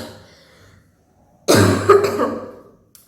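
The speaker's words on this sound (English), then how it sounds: "Sorry, it's just my cough" A single harsh cough after a moment of near silence, followed by a rough throat-clearing rasp that trails off.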